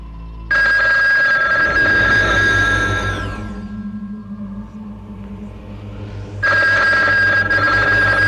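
A telephone rings in a horror drama scene: a loud, sustained electronic ring starts abruptly and fades under a low drone, then returns just as loud near the end, with no one speaking.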